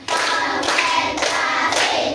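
Loud, close group clapping in four distinct bursts as part of a classroom counting clap game, each burst a cluster of many hands, with no talk over it.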